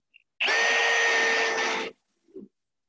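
A power drill whirs in one sustained burst of about a second and a half while driving a screw into a raised garden bed frame, close and loud, with brief quiet clicks before and after.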